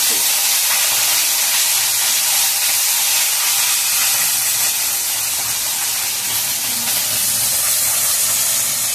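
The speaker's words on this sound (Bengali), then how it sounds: "এবার আমি মাছটাকে ছেড়ে দিচ্ছি তেলে" Morula fish fry in hot oil with a loud, continuous hiss and sizzle that stays close and steady throughout, with no voices over it.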